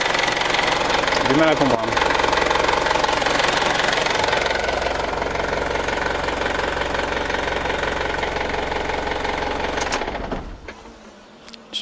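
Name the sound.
Ford Ranger engine running and revving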